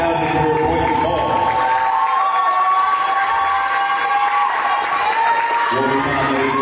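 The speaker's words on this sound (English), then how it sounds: "round of applause for Mateo!" Spectators at a women's college basketball game, Point University against Brewton-Parker College, keep up steady loud applause and cheering with shouts mixed in, dense and unbroken throughout, with a sustained tone running under it.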